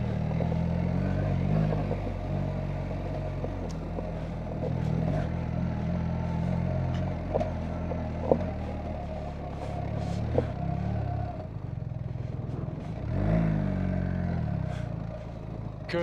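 A BMW R1300GS motorcycle is being ridden, its engine a steady low drone with rising and falling revs, wind rush and occasional clicks and knocks, heard continuously and fairly loud without speech.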